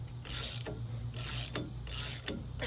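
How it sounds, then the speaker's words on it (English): A wrench works a wheel nut loose on a TYM T474 tractor while wheel spacers are fitted, making repeated metallic ratcheting and grinding bursts in a steady rhythm, close and fairly loud, with no voices. "Put the wrench on backwards and try it again."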